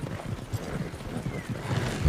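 In a video game, a horse pulls a small cart: steady, rhythmic clip-clop hoofbeats at a walking pace, close and clear over a rolling background rumble, continuing throughout.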